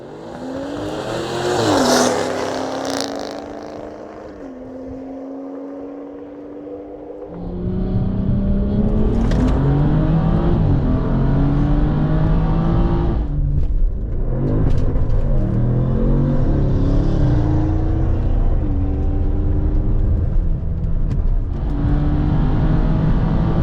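A 4.0-liter twin-turbo Audi S7 and a B58 BMW M240i accelerate hard from a 50 km/h rolling start, loud engine roar climbing through repeated gear-change steps, rising and falling in pitch with sustained rumble.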